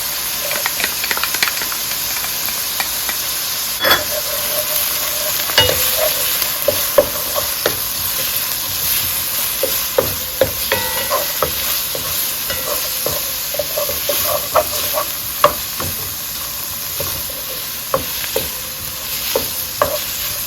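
Garlic cloves and collard greens sizzle and hiss steadily in a hot pan while a utensil stirs and scrapes them, giving intermittent clicks over continuous frying noise, with no voices.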